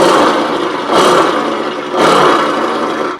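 A voice imitates a car engine starting, with three rough, roaring bursts that swell and fade, loud and close with no other sounds.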